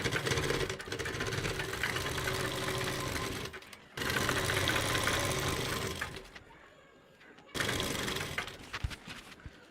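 A sewing machine stitches a salwar leg seam in long steady runs, a fast mechanical whir broken by brief pauses, heard close and moderately quiet.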